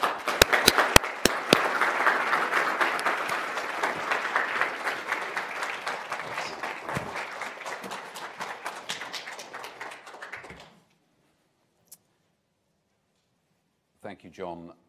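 An audience applauds to welcome lecturer Professor Mark Jackson, a dense, steady clapping close at hand that fades out after about ten seconds, followed by near silence and a faint voice at the end.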